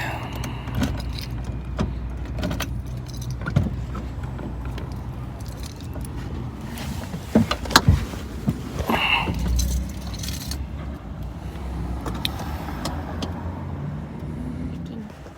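A metal key jangling and working at the door lock of a 2015 Ram 1500 pickup truck with a dead battery, heard as close rattles and a few sharp clicks, with traffic noise and a voice around them.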